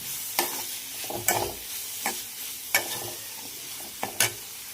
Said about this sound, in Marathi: आणि पुन्हा ही भाजी आता मी ह्याच्यामध्ये परतून घेते.